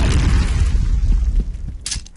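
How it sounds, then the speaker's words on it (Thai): Grenade explosion in the video game Point Blank: a heavy, close booming blast with deep rumbling low end, followed by a brief crackling burst of debris. "โยนระเบิดมาทำไมอย่าโยนของมาซุ่มสี่ซุ่มห้าดิ"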